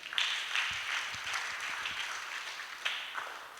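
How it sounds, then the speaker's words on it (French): A church congregation applauds continuously through a worship service, a steady wash of clapping hands with a few louder bursts near the start and end, no voices standing out. "Donnons une acclamation au Seigneur."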